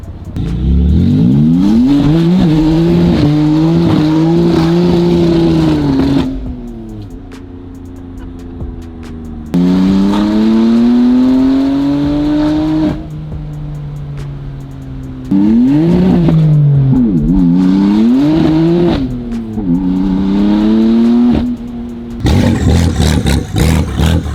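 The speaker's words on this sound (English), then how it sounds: "He wanted to test it with no exhaust, so it's just coming straight from the headers right now." A very loud BMW car engine with open straight-pipe exhaust running straight from the headers, no muffler, revs repeatedly, rising and falling in long roaring pulls with brief idling dips between.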